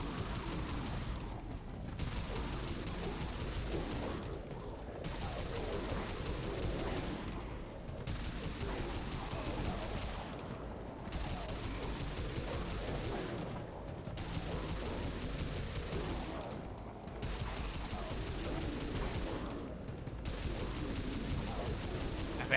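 Dual Wild Cards 1851 revolvers in the video game Dead Frontier fire in steady repeated bursts over a dense, busy game din. Brief pauses between volleys recur every few seconds, and no one speaks.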